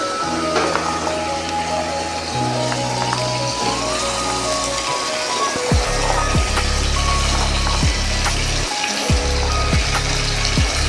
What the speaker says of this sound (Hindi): हमने इसे हल्दी के ऑयल में फ्राई करना है, आलू भी और ये फली भी,